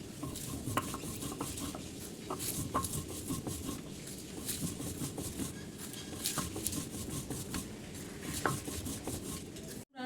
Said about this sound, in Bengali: শুকনো মরিচ বেটে নিচ্ছি শুকনো মরিচের সাথে অল্প লবণ দিয়ে দিলাম